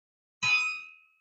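A single bell struck once at a Rotary Club meeting, a bright metallic clang that rings on and fades over about a second, alone in silence.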